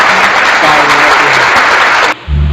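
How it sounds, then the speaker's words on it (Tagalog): Loud, close applause fills the clip, a dense continuous wash of clapping that cuts off abruptly near the end, where a voice briefly comes in. "Paminaw mo dia palakpak."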